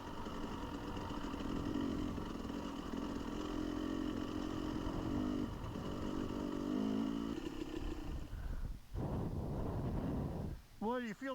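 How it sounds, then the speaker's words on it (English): Steady wind buffets the microphone during a cold, windy motorcycle trail ride, mixed with the bike's continuous engine drone, with brief gusty swells toward the end. "It's also real windy. You can hear that when I twist my head sometimes."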